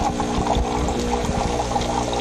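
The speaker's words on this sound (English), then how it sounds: "so we got some water pouring out of the hot water milk frother side" Hot water pours from the milk frother spout of a Gaggia super-automatic espresso machine into a cup, a close, continuous splashing rush that holds steady throughout with no voices.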